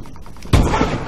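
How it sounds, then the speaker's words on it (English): Gunfire in the video game Call of Duty Advanced Warfare: a single loud, close burst hits abruptly after quieter game ambience and then rings out into a sustained noisy tail. "I shot two people at once."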